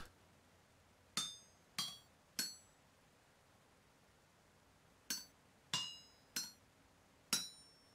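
A hammer strikes metal plates in the video game Vintage Story, seven crisp ringing clinks spaced irregularly, each with a short metallic decay, alone over a quiet background.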